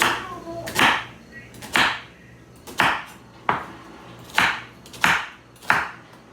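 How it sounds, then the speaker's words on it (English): A sharp knife chops vegetables into chunks for a fall beef stew, six or seven crisp separate cuts against a board at an uneven pace, close and clear in a quiet kitchen. "these I'm going to cut into like chunks"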